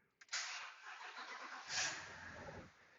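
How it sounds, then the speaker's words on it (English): A 2010 BMW X5 E70 with an N62B V8 in a no-start condition cranks, with a sharp click followed by a steady, loud, churning starter whir of about three seconds that surges near the end. "All we need is the car to crank,"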